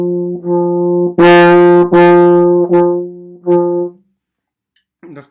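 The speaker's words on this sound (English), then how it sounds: "The first note of each measure will be marcato, making it a more defined and bold sound" A wind instrument plays a short run of sustained tones, the first note of each group firmly accented with a bold, defined attack and the following notes softer and regular, ending in silence with a faint trailing noise.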